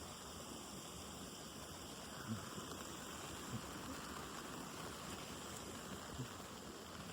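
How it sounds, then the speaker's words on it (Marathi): Steady rain falling over a village, a soft continuous wash with faint scattered patter, distant and quiet throughout, with no voices. "मस्त पाऊस पडतोय गावाला."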